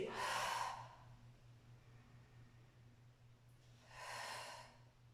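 Two slow, audible breaths out during a gentle strength-training exercise, one at the start and another near the end, with quiet low hum between them and no talking.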